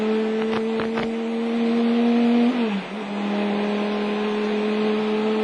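A Chrysler 8-litre 90-degree V8 race car engine on the Le Mans circuit holds a steady, droning tone. The pitch dips briefly as the car shifts or lifts, then settles back to a sustained hum, heard at a distance, no voices.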